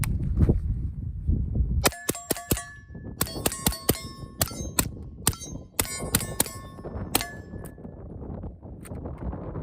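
A suppressed 9mm MP5K fitted with a Resilient Ramblin Man suppressor, tri-lug adapter and 9mm end cap fires a rapid string of sharp, metallic-edged reports in quick bursts, each crack ringing briefly with a clanging tail.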